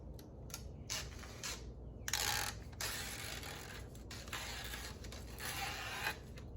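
Adhesive tape being peeled off a Sarona add-on trim piece for a 2014-17 Dodge Durango RT, giving repeated close ripping and crackling strips in short bursts over a low steady background, with no talking.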